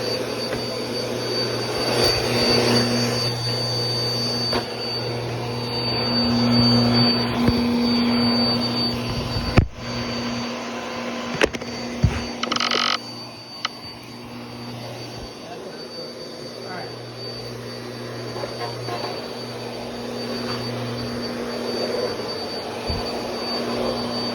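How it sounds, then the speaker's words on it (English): A Bissell Power Force Compact vacuum cleaner runs in an apartment with a rough, flawed-sounding motor, a loud continuous roar with a few knocks and bumps and a voice speaking at times. "this vacuum does sound pretty flawed"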